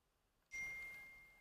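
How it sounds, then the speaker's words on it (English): A phone notification dings once, a single bright chime that rings out and fades slowly in an otherwise quiet room. "Oh, that's my phone."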